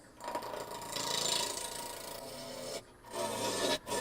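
Wood being turned on a lathe to shape the handle of a wooden pie server, a steady rasping, rubbing cut with brief pauses near the end, fairly quiet and close.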